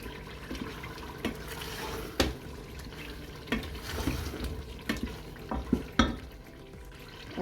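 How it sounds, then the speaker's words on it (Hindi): Spoon stirring green chilies into cooked, softened dal in a pressure cooker, with irregular scraping clinks against the metal pot over a low simmering bubble. The sounds are close and moderately loud, and no one talks. "अब इसमें हम सब्ज़ मिर्चें डाल देंगे।"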